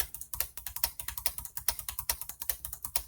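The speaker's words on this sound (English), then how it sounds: "I just sat here in Word and typed" Rapid typing on the keyboard of a Walmart EVOO 17.3-inch gaming laptop: close, crisp clicking keystrokes in a steady, uneven stream with no voices.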